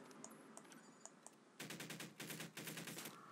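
Video game gunfire, with faint single shots at first and then loud, rapid machine-gun bursts in a quick rattling rhythm that break off once and start again, with no talk over them.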